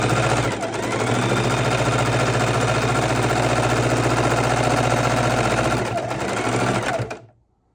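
A sewing machine runs steadily for about seven seconds while stitching a fabric art roll, a close, continuous mechanical whir with a low motor hum and fast needle rhythm that cuts off abruptly at the end.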